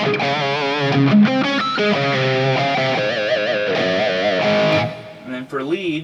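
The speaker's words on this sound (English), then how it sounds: "I might throw in a little bit of reverb if I want, that kind of more 80s rhythmy kind of sound" Electric guitar rhythm playing with a touch of reverb in an 80s style, strummed chords ringing steadily and fairly loud for about five seconds, then a few brief picked notes after a short drop.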